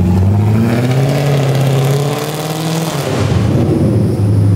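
Car revving hard after suspension work, a loud, close engine climbing and falling in pitch as it accelerates, then surging again, with no talk.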